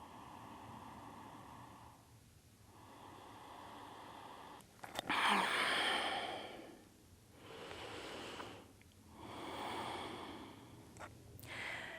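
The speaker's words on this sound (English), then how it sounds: "Take a couple of breaths." Slow, deep breathing during a prenatal yoga session, a few soft breaths in and out at a calm pace, close and quiet, with no talking.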